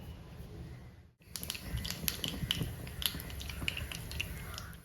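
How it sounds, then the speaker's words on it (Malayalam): Mustard seeds crackle and pop in hot coconut oil in a Kerala kitchen, a quick run of sharp snaps and ticks over a low steady sizzle, starting after a brief hush near the beginning. "ഇതിലേക്ക് കടുക് ഇട്ട് കൊടുക്കാം"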